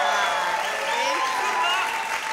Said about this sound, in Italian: Continuate questo applauso per Federico Basso